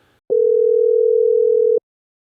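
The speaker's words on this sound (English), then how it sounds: "the call connected, and it started ringing" A single steady phone ringing tone, one sustained electronic beep lasting about a second and a half with a slight pulsing flutter, clear and alone against silence.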